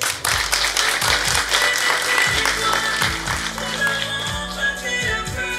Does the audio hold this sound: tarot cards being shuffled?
no